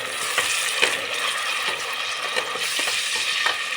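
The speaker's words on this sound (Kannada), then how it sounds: "ಇದು ಎಣ್ಣೆ ಬಿಡೋವರೆಗೂ ಫ್ರೈ ಮಾಡಬೇಕು" Ground masala paste for veg pulao fries in oil in a pan, a continuous close sizzle broken by repeated scraping strokes of a spoon stirring it, with no speech.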